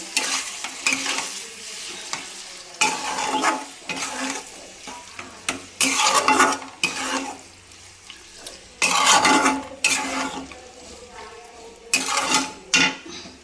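Chicken with methi is stir-fried in a pan, with loud repeated bursts of spatula scraping and clatter over a steady sizzle at an irregular rhythm.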